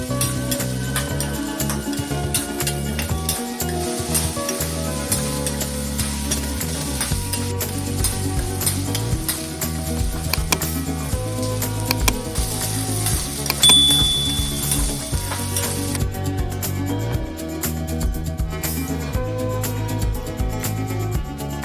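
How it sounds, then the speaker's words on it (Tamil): Okra (ladies' finger) fried in about four ladles of oil in a pan gives a continuous sizzle with repeated scraping and stirring, which lasts the whole stretch and has no speech. "ஒரு சட்டி வச்சுக்கோங்க நாலு வரண்டி எண்ணெய் ஊற்றி வெண்டைக்காய் போட்டு நல்லா வணக்கி எடுத்து வச்சுக்கோங்க"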